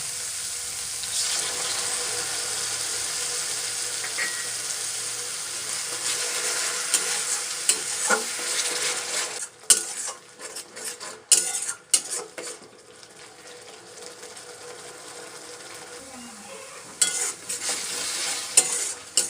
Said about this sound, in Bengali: কাশ্মীরি লঙ্কার গুঁড়ো ভালোভাবে মিশিয়ে নিয়ে এবারে দিয়ে দিচ্ছি টমেটো বাটা